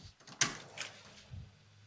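A door pulled shut by the suction of a 1970s motor-driven fan in a house under renovation: one firm thump followed by a softer knock and a low rumble, faint and without speech.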